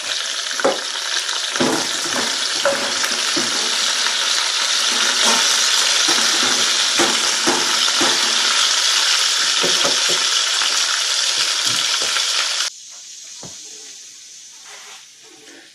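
Fajita meat splashed with lime juice frying loudly in a pan, a dense close sizzle with occasional stirring clinks that cuts out abruptly near the end, leaving a quieter hiss.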